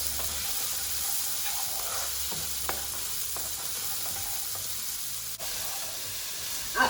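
Mushrooms fry in a pan over medium-low heat for a cashew mushroom curry, giving a steady, even sizzle with faint scattered pops and small ticks of the pan throughout, up close with no talking.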